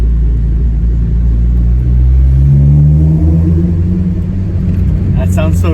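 Acura RSX (DC5) engine revving up and settling in an enclosed space, a deep close rumble rising in pitch then easing, with a voice speaking briefly near the end.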